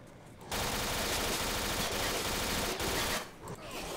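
Sustained automatic gunfire in the Stalker video game rattles in one dense, loud burst for about three seconds, starting abruptly and trailing off into quieter sound.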